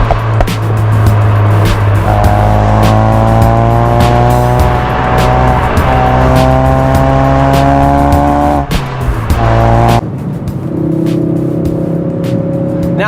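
A hot hatch pushed hard around a racetrack corner, engine revving loudly and steadily up through the rpm range with tire noise, then a sharp drop and a gear change into a lower, climbing drone.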